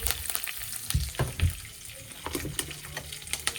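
Mustard seeds, urad lentils, cumin, chana dal and three dried red chillies sizzle in hot oil for a Tamil beetroot stir-fry, soft crackles and pops over a low frying hiss, close but faint.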